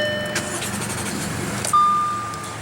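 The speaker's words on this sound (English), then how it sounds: "what you're hearing is that 3-liter supercharged V6" A 2015 Audi Q7 with a 3.0-litre supercharged V6 starting with a key twist: a short starter crank, then the engine catches with a sudden rise into a steady idle, close and loud.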